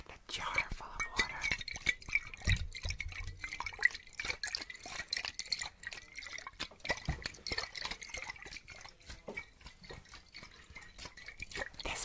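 Small water-filled plastic test tubes handled close to the mic in an ASMR session, giving soft sloshing, tapping and liquid drips amid quiet whispering.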